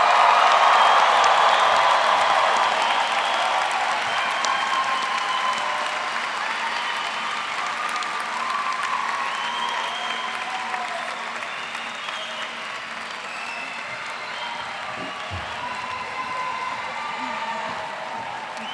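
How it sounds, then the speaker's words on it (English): Sustained applause from an audience at a medical school white coat ceremony for the class of 2027, loud and steady from the start and tapering slightly, with scattered cheers mixed into the clapping. "Big, big round of applause for this class."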